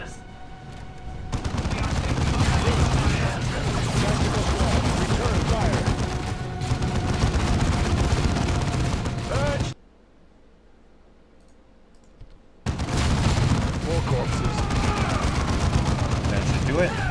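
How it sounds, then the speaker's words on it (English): Loud, dense gunfire and explosive bursts from a Dawn of War II battle on PC, with a flashbang among the volleys; the firing roars continuously, drops to near silence for about three seconds, then resumes at full intensity. "Let's use another flashbang."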